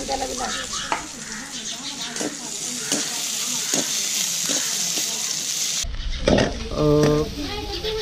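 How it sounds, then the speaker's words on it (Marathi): Onion frying in oil on a village-style stove gives a steady sizzle, with repeated stirring scrapes and, near the end, a brief clatter and a ringing tone. "त्याच तेलामध्ये आता कांदा तळून घ्यायचं आहे परतून घ्यायचं आहे"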